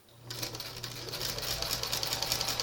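A sewing machine straight-stitching the edge of a fabric headband starts up abruptly and runs steadily in a rapid, even mechanical chatter with a faint motor hum, close up and alone.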